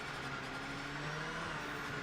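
Audi R8 LMP race car driving in the Project Motor Racing video game, a steady engine drone with heavy wind roar, held at an even level for a couple of seconds.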